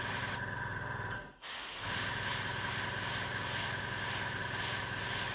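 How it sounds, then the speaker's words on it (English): An airbrush sprays white paint with a steady, close hiss that continues throughout, with one brief break and a fainter stretch in the middle. "I'm going to spray the whole lot white first."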